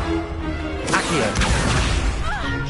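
An Accio summoning spell cast in the Hogwarts Legacy game on PS5 lands as a sudden loud magical burst with swooping, whooshing tones. Other rumbling game effects and a voice fill the short stretch around it.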